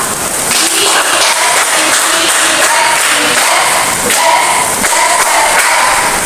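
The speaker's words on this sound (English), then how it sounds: "Let's give ourselves a best clap." Classroom students clapping together, loud and close, with a dense continuous patter of claps and occasional thumps and raised voices mixed in, sustained throughout.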